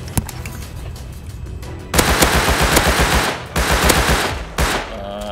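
Rapid bursts of AK rifle fire crackle in a survival video game, a few single shots followed by loud sustained automatic volleys close by, with no talking.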